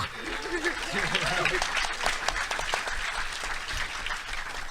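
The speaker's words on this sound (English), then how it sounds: "Yeah, clap for that." Audience clapping and applause fill a convention panel room on animation, a steady, moderately distant roar of many hands that continues throughout with a few voices mixed in.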